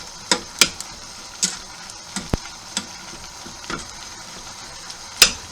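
Venison mince browning in a hot pan gives off scattered sharp pops and crackles, a handful of distinct spits spread over a quiet, faintly sizzling background, with no talking.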